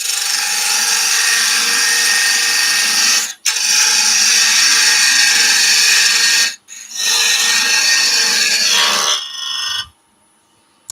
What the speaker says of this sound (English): We're going to go with a parting tool also.